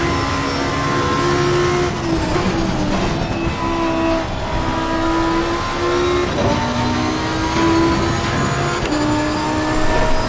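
Race car engine in Assetto Corsa Competizione at Oulton Park, revving loudly and continuously with repeated rising and falling pitch as gears change and downshift, heard up close with no talking.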